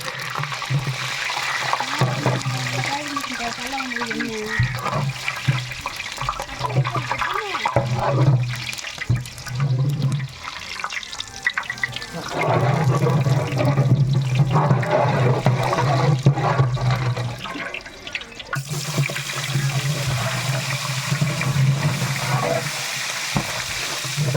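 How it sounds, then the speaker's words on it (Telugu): Biryani spices sizzle and fry steadily in hot oil in a large pot for a 40 kg chicken biryani, with continuous loud crackling and occasional stirring scrapes throughout. "ఇప్పుడు బిర్యానీ మసాలాలన్నీ నూనెలో వేసేస్తున్నా."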